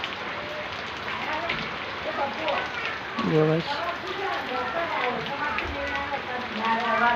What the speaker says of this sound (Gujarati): વરસાદ ચાલુ જ રહેશે, આવે છે જાય છે